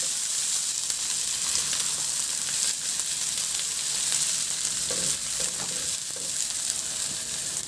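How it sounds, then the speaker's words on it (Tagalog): Garlic, ginger and onion sauté in a pan, a steady close sizzle and hiss of frying with occasional stirring scrapes, continuous throughout with no talking. "Sa the same na kawali, igisa ko na yung bawang, luya. Ilagay ko na rin yung sibuyas."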